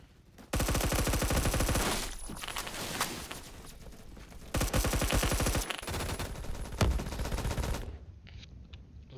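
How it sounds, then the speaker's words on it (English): Rapid automatic gunfire in the Phantom Forces video game: loud, close bursts of sustained shooting roll on for several seconds, break briefly, then resume before cutting off near the end. "I'm pretty sure I'm shooting and all the sounds are really loud"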